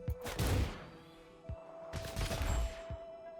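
RimWorld gunfire: two rapid bursts of shots, each a tight cluster of sharp cracks, separated by a brief lull over a steady faint tone.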